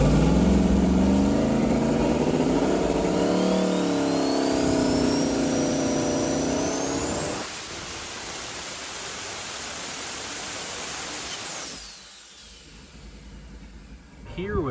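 A twin-turbo LS engine rated over 2000 hp runs a pull on an engine dyno, surging loud with a wavering, rising drone. The drone then drops into a steady broadband rush that fades toward the end.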